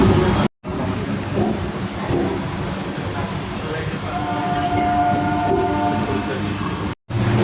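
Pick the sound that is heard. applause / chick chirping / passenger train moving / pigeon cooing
passenger train moving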